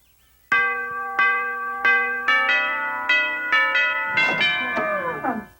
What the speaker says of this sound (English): Who ever heard of a doorbell on a refrigerator?